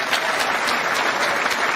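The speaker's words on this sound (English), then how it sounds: "Maybe I'll get a smattering of applause when this goes in" Steady applause from a snooker crowd at the Champion of Champions quarter-final, Ronnie O'Sullivan against John Higgins, filling the hall evenly and without pause for the whole stretch.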